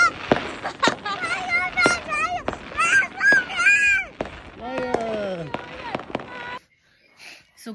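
New Year's Eve fireworks outdoors in Germany: a dense run of sharp cracks and pops with whistling streaks, and voices shouting over them, before the noise drops away near the end.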